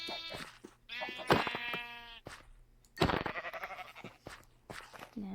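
Minecraft sheep bleat repeatedly in a pen, several loud wavering baas close by, one after another with short pauses between them.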